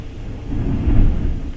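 Distant storm thunder rumbles outside, a low rolling roar that swells and fades over a second and a half with no talk.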